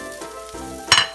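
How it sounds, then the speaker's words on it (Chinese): Shredded cabbage stir-fries for noodles in a hot pan, a steady close sizzle with a brief louder scrape of tossing near the end. "加入白菜丝之后，煸炒半分钟左右。"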